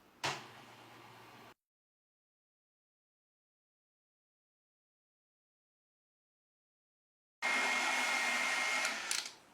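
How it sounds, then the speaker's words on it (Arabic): An electric hand mixer whips an ice cream mixture with whipped cream, buzzing briefly, falling silent for several seconds, then whirring loudly again near the end. "ودلوقتي بقى هنقول بسم الله ونضربه بالمضرب الكهربائي لحد ما يتقل معانا"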